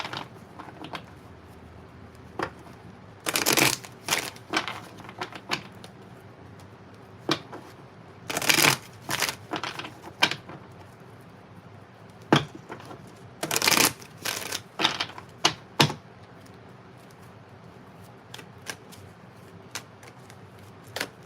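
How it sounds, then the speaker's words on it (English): Tarot cards being shuffled by hand, bursts of crisp riffling and flicking in several rounds with quieter taps and handling between, close and quiet. "Let me go ahead and do a shuffle for you."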